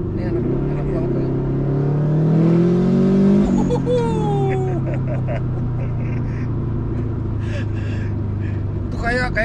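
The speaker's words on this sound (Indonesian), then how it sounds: "di sini tuh ada sense kayak mesinnya tuh ngamuk" A tuned third-generation Subaru Impreza WRX STI engine revs up and falls back in a home garage, a steady loud drone rising then settling, with people talking over it throughout.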